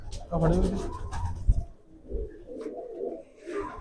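A purchased racing pigeon coos in short, low, burbling bursts close by, broken by a sharp knock partway through, while a voice is heard intermittently alongside.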